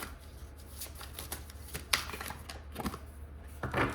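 Tarot cards being shuffled for a reading, a steady stream of close riffling and flicking with a few sharper slaps, no voice.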